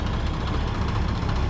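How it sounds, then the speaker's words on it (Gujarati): A tractor engine runs steadily at a low, rumbling idle nearby, a continuous heavy drone with no pauses and no voices. "આ બીજું ટ્રેક્ટર આવે જો"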